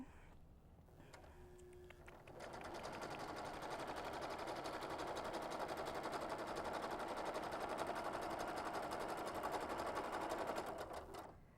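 A sewing machine stitches a pillow seam in a fast, even mechanical chatter that starts after a brief pause, runs steadily for several seconds, then stops, fairly close and alone.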